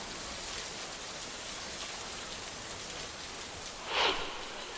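Heavy monsoon rain falls in Yavatmal district, Maharashtra, as a steady hiss of drops on surfaces with a brief louder splash near the end and no voices.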